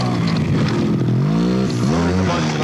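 A trials motorcycle engine revving at a 1981 Kickstart event in Easton Neston Park, loud and close, its pitch rising and falling in quick throttle blips.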